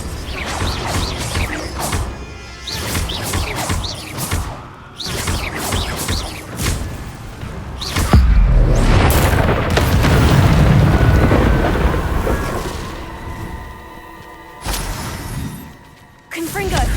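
Repeated fiery blast spells erupt in Hogwarts Legacy combat, loud booming explosions and crashing impacts recurring through the fight, mixed with game music and clashes, with voices talking over parts of it.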